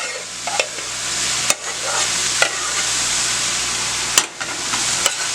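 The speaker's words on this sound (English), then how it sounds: "I'm going to go ahead and add all my rice." A cup of rice added to vegetables frying in a pan for vegetable fried rice, loud continuous sizzling with several sharp spatula scrapes and knocks against the pan.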